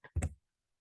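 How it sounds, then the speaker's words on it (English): A computer keyboard's tab key is pressed during spreadsheet work, giving one brief, close plastic click with a faint lead-in tick, then silence. "clicking the tab button"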